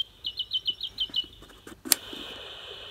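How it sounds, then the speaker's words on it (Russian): A small bird chirps in a quick run of about seven high tweets, followed by a sharp click and a faint steady hum, likely from a toy. "Птички."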